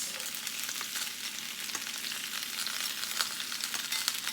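Onions sizzle and crackle steadily as they fry with beef in a pan for a Moroccan beef tajine, a close, continuous hiss with small pops and occasional stirring, no voices.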